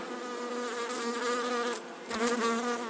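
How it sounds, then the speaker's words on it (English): A swarm of small biting bugs buzzes in a dense, loud, continuous drone with shifting pitch, close by and without voices. "the dust would turn into a swarm of small biting bugs, also known as lice"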